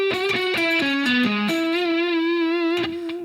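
A tricky guitar run played slowed down through distortion: a quick series of descending picked notes, then one long sustained bending note ringing out, loud and alone.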